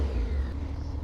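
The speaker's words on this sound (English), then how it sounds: "we can just push the start button and there we go." A Honda Forza 750 scooter's engine catches and settles into a steady, low, close rumble for about a second, with no voices over it.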